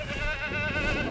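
A goat in Jurassic World Evolution 2 bleats as it is grabbed during a hunting animation, a short, loud, wavering cry heard close up.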